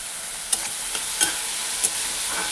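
Soaked chana dal frying together with onions in a pan, a steady sizzle with a few soft stirring scrapes, close and without talk.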